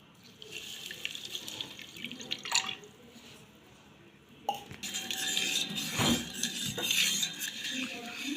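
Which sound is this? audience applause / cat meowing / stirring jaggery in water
stirring jaggery in water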